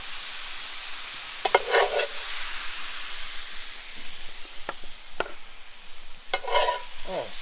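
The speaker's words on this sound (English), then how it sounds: "just mix it through, so you've got all of that going through" A big metal spoon stirring a colourful vegetable mixture in a hot pan, with a steady sizzle and a few sharp scraping clinks scattered through, close and fairly loud.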